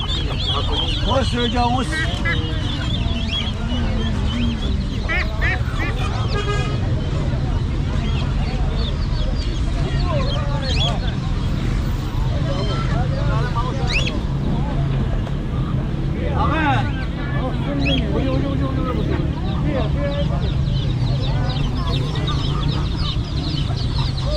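Geese and chickens at a weekly outdoor poultry market in Kuchesfahan, Gilan, honking and clucking continuously amid a dense crowd din, with people talking throughout.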